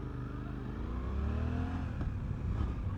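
Suzuki V-Strom 800 mid-size adventure motorcycle engine running under load with a clutch gear shift, a steady loud drone with rising and falling engine tones and a slight clatter midway.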